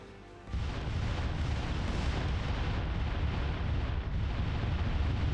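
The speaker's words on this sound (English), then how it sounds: "Another rocket run coming in" A rocket run in a military video game set in Sierra Leone: after a brief lull, a dense continuous roar of explosions sets in and rumbles on without pause, distant and heavy, with no voices.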